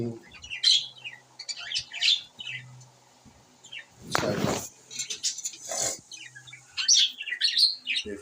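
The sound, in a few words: pet birds (finches) chirping and squawking in colony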